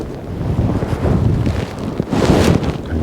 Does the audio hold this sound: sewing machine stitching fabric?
no